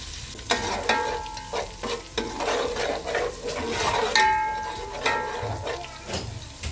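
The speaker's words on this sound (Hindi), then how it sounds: "अब थोड़ा सा बस इसको फ्राई करेंगे।" Biryani masala fries in a pan, a sizzling hiss broken by scraping and clinks as a spoon stirs against the metal, with uneven bursts of louder stirring.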